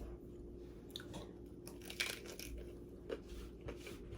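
Someone bites into pickles eaten alongside McDonald's chicken tenders with buffalo sauce and lettuce boats, producing several close, wet crunches and quiet chewing against a soft background hum, with no talking.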